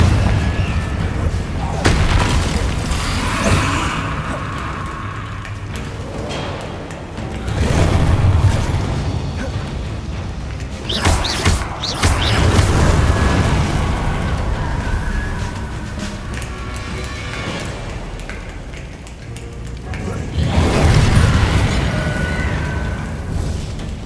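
Repeated Confringo fire-spell blasts in the Hogwarts Legacy video game, loud booming bursts recurring every few seconds over a rumbling low background with crackling debris.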